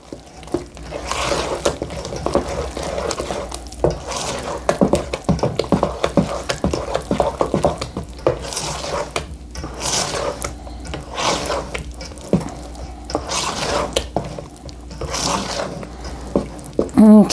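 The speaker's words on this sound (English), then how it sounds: "we are just going to go ahead and fold it in to the dry ingredients" Wet, squishy stirring and scraping as pumpkin batter with pumpkin pie spice is folded into dry ingredients in a bowl, steady soft irregular pulses with brief louder squelches throughout, close by.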